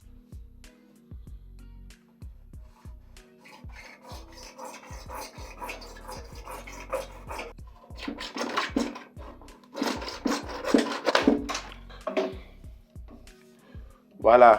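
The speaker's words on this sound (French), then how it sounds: "vous prenez votre scie à métaux" A hacksaw cuts through PVC pipe in short, rhythmic back-and-forth rasping strokes that grow quicker and louder toward the end, while someone talks over part of the sawing.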